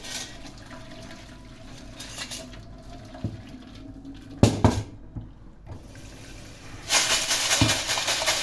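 Hot water is strained off wooden spoons boiled with tea for five minutes, with quiet pan handling and then two loud gushing bursts of pouring water up close.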